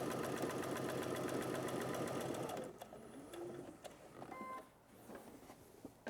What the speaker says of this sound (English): And now let's just sew right to the other dot.